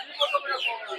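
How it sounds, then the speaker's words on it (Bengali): Chickens cluck in short, close bursts at a busy poultry stall in the Golakandail village market, with a faint murmur of voices underneath. "ওনারা খাসি মুরগি বলে এগুলো।"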